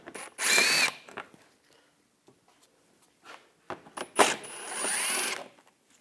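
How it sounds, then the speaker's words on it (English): A power tool with a 7mm socket removing screws during intercooler work on a 2013-2022 Buick Encore 1.4L L4, two short whirring bursts separated by a quiet gap filled with faint handling clicks, near and moderately loud. "Using a 7mm socket, take these screws out."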